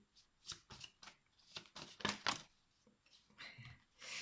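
Tarot cards being shuffled during a reading make crisp, quick riffling and slapping bursts, close and fairly quiet, in an uneven rhythm with no one talking.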